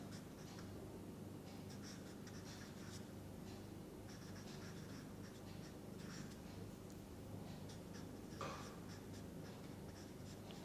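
Chalk scratches across a board as a chemical formula is written out, faint, rhythmic strokes and taps running steadily over a quiet room hum.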